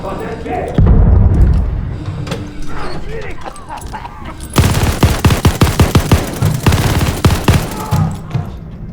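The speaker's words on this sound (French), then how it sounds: "Je lance une grenade" In the Call of Duty Vanguard shooter, a heavy thump of a grenade blast lands early, then a dense burst of rapid gunfire crackles loudly in quick repeated shots, with voices speaking between.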